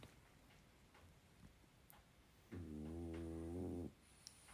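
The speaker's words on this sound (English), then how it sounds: "you'd hear my dogs laying on the couch while I'm recording this, snoring away" A French bulldog snores on a couch indoors, one long, loud, rumbling nasal snore lasting just over a second, following faint quiet room noise with a few soft ticks.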